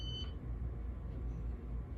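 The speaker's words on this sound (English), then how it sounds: "It's so quiet that you can barely notice the beeping." A Casablanca Stealth ceiling fan gives one short, bright electronic beep right at the start as its speed is changed, followed by a faint steady background hum.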